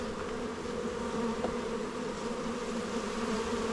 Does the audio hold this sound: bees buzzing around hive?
yes